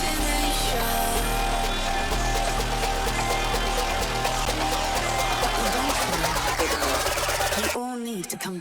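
A dense synth transition run through a vocoder, with a pulsing low-end rhythm under thick warbling, chattering tones that build for several seconds, then cut off into a brief wobbling, pitch-bending tail.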